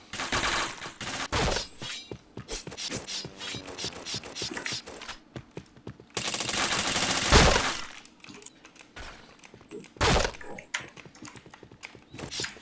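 Rapid bursts of gunfire in a shooter video game crackle in uneven clusters, mixed with clicky keyboard-like tapping and brief louder volleys, close and fairly loud.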